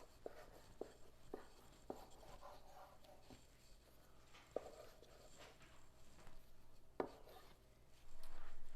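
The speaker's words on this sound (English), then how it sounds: "I'm going to cut my bread up so I can get it off this." A knife cuts through a loaf of homemade bread, giving a series of sharp, close taps and scrapes at irregular intervals, with a rougher sawing rustle near the end.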